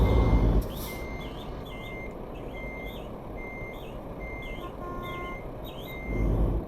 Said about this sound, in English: Stop beeping at me.